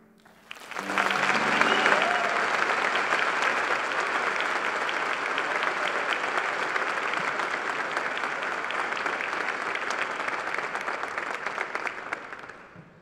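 A high school graduation audience breaks into applause, a dense sustained roar of many hands clapping that swells in quickly and holds steady for over ten seconds before tapering off, with faint talk underneath.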